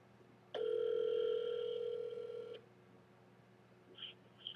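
A single steady telephone ringback tone sounds for about two seconds while a call is placed to a live radio show guest, then stops, leaving quiet line hiss with a couple of faint higher blips.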